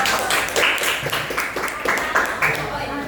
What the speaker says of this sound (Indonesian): boleh tepuk tangan dua teman-teman dong.